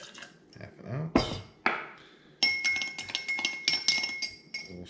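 A spoon stirs a mixed drink in a glass, with a few scattered clinks at first, then a quick run of bright, rhythmic clinking against the glass, close and clear with no talking.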